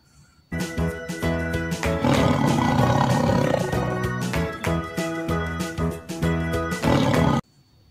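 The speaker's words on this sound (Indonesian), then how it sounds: "Wow, ini adalah harimau." A toy tiger lets out a loud, sustained electronic roar recorded close up, starting abruptly, growling on for several seconds, then cutting off.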